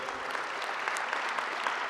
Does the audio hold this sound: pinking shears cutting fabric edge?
no